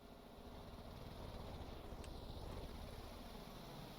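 Small fishing boat engine in the Stormworks game running at a steady, continuous drone, loud and even throughout with no talking.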